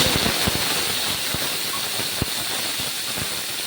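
Dried shrimp fry in hot oil in a wok, giving a loud, steady close hiss broken by scattered sharp pops and crackles.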